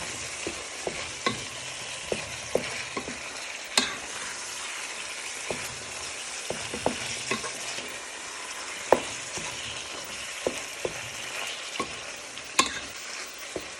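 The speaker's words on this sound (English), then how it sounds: "add in your diced beef to your pan with the mince, and you want to give them a good toss" Diced beef and mince fry in a pan for a scouse, a steady close sizzle broken by frequent sharp clicks and scrapes of stirring and tossing throughout.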